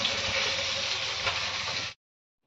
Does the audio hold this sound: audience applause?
no